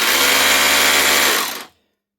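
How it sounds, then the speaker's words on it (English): A Makita 36 volt BHR262 battery drill runs at a loud, steady whine, then winds down and stops abruptly, leaving silence. "Makita 36 volt drill."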